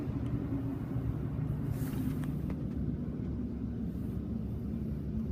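A Mark VII SoftLine car wash tunnel at a Shell station on a snowy day runs with a steady, close low rumble and machinery drone, with faint clicks above it.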